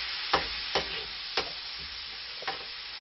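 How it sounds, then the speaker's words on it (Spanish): Squid with grated tomato sofrito frying in a pan for black paella: a steady close sizzle runs throughout, broken by four sharp spoon scrapes against the pan, with no talking. "Repartimos bien y seguimos sofriendo."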